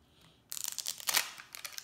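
Crinkly handling of LOL Surprise toy packaging, with several sharp plastic rustles and tearing bursts close by, starting after a quiet half second and pausing briefly before more crackles.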